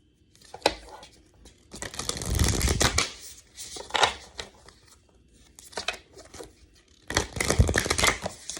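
Tarot cards being shuffled by hand, with soft riffling and papery shuffles coming in bursts separated by quieter pauses, close and fairly quiet.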